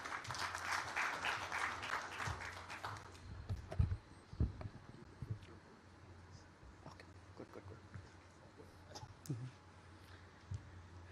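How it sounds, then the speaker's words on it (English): Audience applause at the Andhra Pradesh Global Investors Summit 2023 in Mumbai, a burst of clapping that fades out within about three seconds, followed by faint room noise and scattered small sounds. "Let's all welcome him with a big round of applause."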